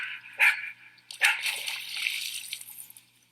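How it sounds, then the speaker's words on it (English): A beaver slaps the water with its tail, two sharp splashy smacks about a second apart followed by lingering sloshing and spray, fairly quiet and outdoors. "So beavers slap the water with their tail."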